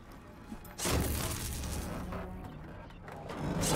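Explosions tear through a bandit camp in the video game Horizon Forbidden West, a loud burst of blasts and crashing debris that keeps rumbling on, with a voice talking beneath it.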